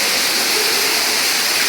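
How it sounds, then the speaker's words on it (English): Water crashes steadily down a second cave pit like a waterfall, a loud, continuous broadband roar with no pauses or voices. "All this water is going down the second pit."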